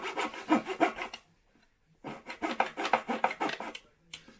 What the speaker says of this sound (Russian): Пиляй, пиляй.